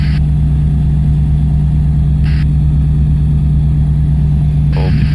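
Diamond DA20 light aircraft engine in flight at a 65% cruise power setting, a loud steady propeller drone with a constant hum, heard from inside the cabin with brief bursts of radio or intercom hiss.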